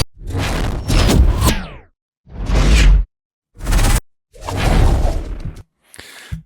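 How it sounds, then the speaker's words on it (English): Several sharp whoosh sound effects sweep past in separate bursts, building up to a final impact hit, loud and close with silences between them. "whooshes here are used as a build up before an impact"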